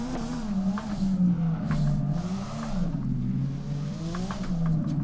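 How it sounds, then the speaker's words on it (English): A car in the video game DRIFT21 does a burnout, its engine revving and wavering with tire squeal in steady surging pulls, loud and alone. "massive burnout."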